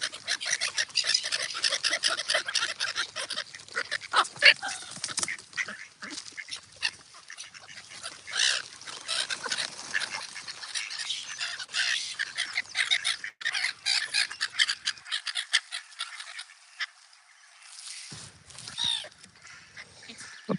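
Ducks, geese and gulls call outdoors in a busy, overlapping chorus of squawks and honks, loud and fairly close, with scattered chirps and a brief lull near the end.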